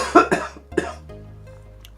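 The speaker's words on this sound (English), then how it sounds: "I tried my best not to cough into the microphone." A person coughs a few times in quick succession, close and loud, followed by a low hum and then the start of another cough.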